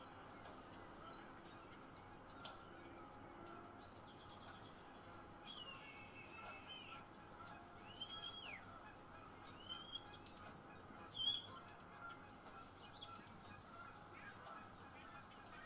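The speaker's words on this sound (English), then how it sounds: "And the European starling is going to sound like this." European starling calls play faintly over a low steady background hum: scattered whistles, squeaks and chattering notes come and go, with a slightly louder call late on.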